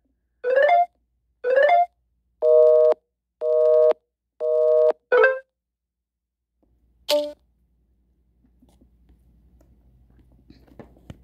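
Busy signal from calling one's own phone in the video game Simulacra 2: a series of evenly spaced, clean electronic tone beeps, loud and close, followed by a single short tone and then faint low hiss.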